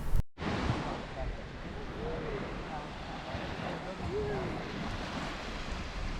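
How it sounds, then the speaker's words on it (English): Waves wash onto the shore of Lake Ontario at Outlet Beach in Sandbanks Provincial Park, a steady rushing surf mixed with wind buffeting the microphone, with faint voices in the background. "Outlet Beach. This is Lake Ontario."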